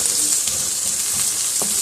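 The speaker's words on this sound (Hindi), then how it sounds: "इसके अंदर अभी हम शामिल कर देंगे 2 अदद छोटे साइज़ के प्याज या 1 अदद बड़े साइज़ का प्याज।" Onions frying in a tablespoon of oil for mutton korma, a bright continuous hiss and crackle close up with a faint stir near the end, no voices.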